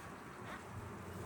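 Honeybees in a Langstroth hive buzz loudly and steadily, a dense continuous drone close by with no voices.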